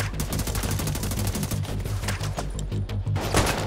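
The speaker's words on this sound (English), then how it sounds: "You can also shoot blindly from behind cover" Rapid automatic gunfire from a third-person cover shooter, The Division 2, with dense repeated shots in a steady rhythm, loud and close throughout, and no talking.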